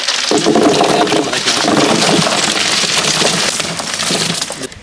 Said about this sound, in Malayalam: കാപ്പി ബോക്സായിട്ട് മുഴുവൻ ഐസ് ക്യൂബ് നിറയ്ക്കാൻ പോവാണ്